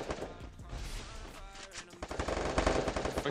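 Rapid automatic gunfire from the Free Fire battle game, dense bursts of shots over a busy game soundtrack, loud and continuous with a heavier volley toward the end.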